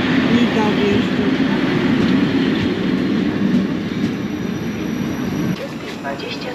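A Nida passenger train rolls into a station as a loud, steady rumble with a low roar and wheel noise. The sound eases slightly near the end.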